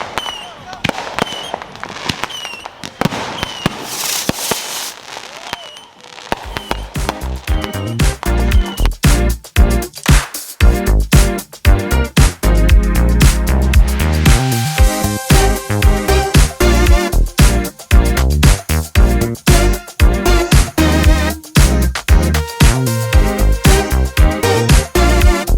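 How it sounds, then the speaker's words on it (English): Aerial firework shells with a classic look, set off for the Fourth of July, launch and burst loud and close: after a few sharp early pops comes a dense, rapid run of booming explosions and crackle that carries on without a break. "best shells you can buy for the price. I love the classic look on them. Let's give them a shot."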